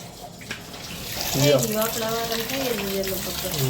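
Water gushes from a tap, pumped by a motor and collected for washing clothes, as a steady running stream, with a person talking over it from partway through.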